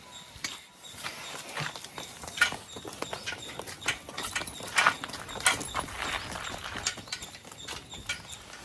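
Bullock cart setting off with hooves clopping and the cart rattling in an uneven rhythm, fairly close, a dog audible briefly, no talk.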